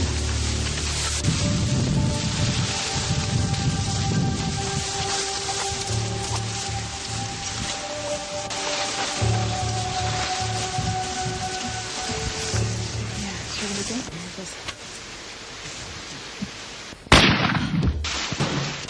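Hunting rifle fired at a buffalo in Africa: a long stretch of steady outdoor rustling and background noise, then one sharp, loud blast near the end.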